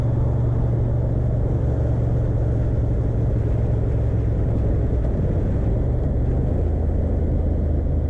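A 2023 Honda Hornet 750 motorcycle engine drones steadily and loudly while being ridden, a continuous low rumble mixed with wind noise and no speech.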